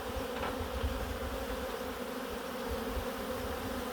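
Honeybees from a newly installed package buzz densely around an opened hive frame, a steady close hum with no talk over it.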